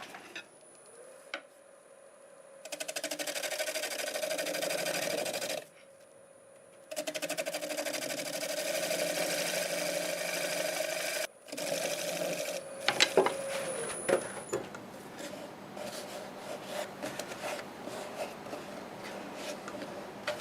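A turning tool cuts black walnut on a wood lathe, a sustained whirring scrape that starts and stops in several bursts, followed by quieter motor hum and clicks.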